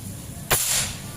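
A PCP air rifle with a 30 cm seamless barrel at 2700 psi fires at a metal silhouette target. One sharp, moderately loud crack is followed by a short, bright ring over low background noise.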